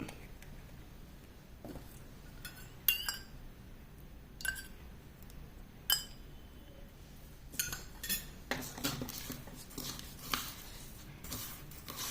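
A spoon stirring red food colour into a homemade mixture for rangoli colours, producing faint scraping and sharp clinks against a bowl, irregular taps that grow busier toward the end, quiet and close with no talking.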